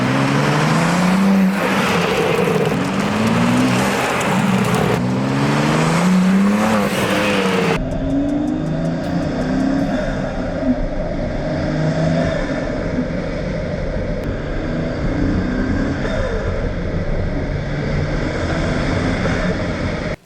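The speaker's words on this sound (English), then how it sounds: "There's nothing like hearing your turbo spool up through the intakes." A BMW G80 M3 twin-turbo engine fitted with custom intakes revs loudly up close, rising and falling in several pulls, then drops into a rumbling run with faint high turbo whine.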